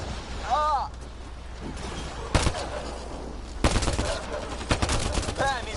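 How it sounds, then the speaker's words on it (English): Sci-fi gunfire in Mass Effect Andromeda sounds as sharp, loud bursts of shots scattered through a tense battle, with chirping alien calls and a low rumble beneath, and a voice shouting between the shots. "Just keep firing, we can do this!"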